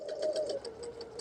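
A sewing machine stitches fabric for a diamond table runner, with a soft, steady mechanical whir and faint rhythmic needle ticks for about a second.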